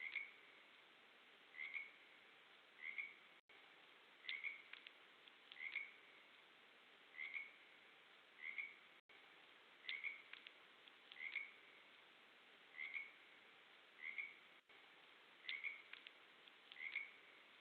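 Frogs croak at night in a wildlife setting, a steady, evenly spaced series of short whistled calls repeating about every second or so, moderately faint and with no talking.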